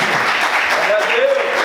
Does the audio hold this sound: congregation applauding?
yes